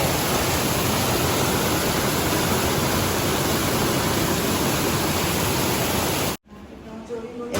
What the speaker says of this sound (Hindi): ओह माय गॉड, बहुत बारिश है।